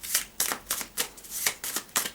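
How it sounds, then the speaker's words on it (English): Cardboard room and tunnel tiles from the Gem Rush board game are shuffled by hand: about eight quick, close rustling bursts in a steady rhythm, with no talking. "Firstly, we're going to shuffle our rooms,"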